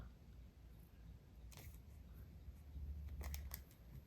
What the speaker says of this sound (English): And then now I may go in with the little scissors